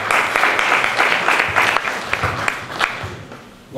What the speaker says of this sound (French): Applaudissez-le, il en a besoin.